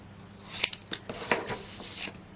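Scissors roughly cutting out a paper craft piece, a handful of sharp close snips spaced irregularly over a couple of seconds, quiet and alone with no talking.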